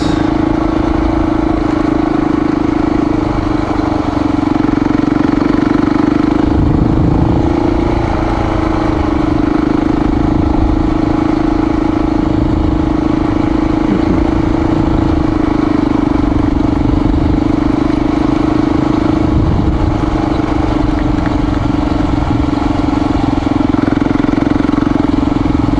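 A Honda XR dirt bike idles along a hard-packed dirt road with a small cinder base, its steady, loud engine drone running continuously close to the rider, with slight rumbling fluctuations.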